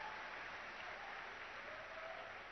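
Faint, steady clapping from a large audience at a Save Soil conversation event, a dense, even patter of many hands that holds for the whole stretch without pauses.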